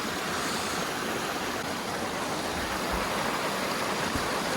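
Moving water of a stream outdoors, a continuous broadband rushing and burbling that stays steady and fairly close throughout, with no voices.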